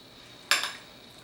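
A single sharp metallic clatter of a kitchen pan being picked up or set down, with a brief ringing follow-up, close and alone against a quiet room.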